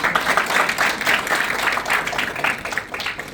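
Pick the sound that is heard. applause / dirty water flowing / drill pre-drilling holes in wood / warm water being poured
applause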